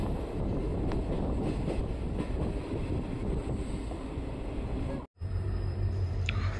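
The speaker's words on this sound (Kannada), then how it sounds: "ಫ್ರೆಂಡ್ಸ್, ನಮ್ಮ ಟ್ರೈನ್ ಈಗ ಶಿವಮೊಗ್ಗ ರೈಲ್ವೆ ಸ್ಟೇಷನ್ಗೆ ಬಂದಿದೆ." Train on the Kuvempu Express route pulling into Shivamogga railway station, a steady rolling rumble heard from on board with wind buffeting the microphone and a brief dropout near the end.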